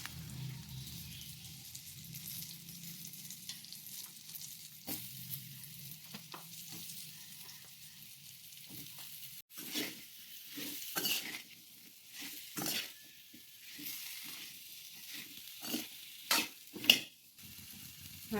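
Chopped red pumpkin (dangar) tipped into a pan of hot oil tempered with curry leaves and ajwain. A low hum gives way to bursts of sizzling and a clattering spoon as the pieces are stirred, close and moderately loud.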